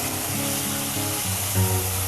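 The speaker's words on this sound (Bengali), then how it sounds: "এবারে মশলাটা ঢেলে দেবো।" Spice paste poured into a hot pan of oil, a close, steady sizzle with a brief surge near the end.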